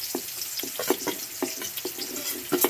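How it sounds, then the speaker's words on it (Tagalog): Ginger sizzles as it is sautéed in hot oil for jackfruit cooked in coconut milk, a steady loud frying hiss broken by repeated stirring scrapes of a utensil in the pan. "Yan, hinihulog na yung luya."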